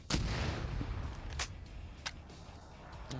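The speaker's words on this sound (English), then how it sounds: "Blue 4 still have their mortar, too, so they're just going to pound this position." Mortar rounds pound a position in an Arma PvP match: a heavy opening blast followed by several more booming impacts spaced about half a second to a second apart, loud and close, with no talk.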